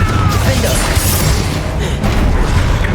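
A Confringo fire spell explodes in Hogwarts Legacy during a duel, a loud, dense booming crash with shattering debris that fills the short moment.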